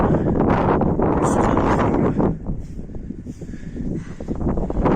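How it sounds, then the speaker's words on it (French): Strong, gusty mountain wind buffets the microphone with loud broadband roaring on a trail near Vignemal in the Pyrenees, easing briefly before surging again. "On a un sale vent par moment, il y a des grosses rafales."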